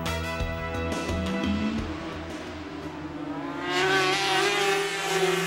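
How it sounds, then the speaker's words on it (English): A racing motorcycle engine screams and revs, its pitch climbing steadily as it accelerates, loud and continuous with a roaring, high-speed whine. "Thrilling motorcycle racing sounds more realistic than ever before."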